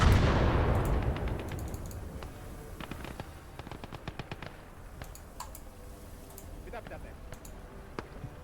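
In a war video game battle, a big gun fires a loud opening blast whose boom fades away. Scattered sharp shots and bursts of gunfire crackle on in the distance.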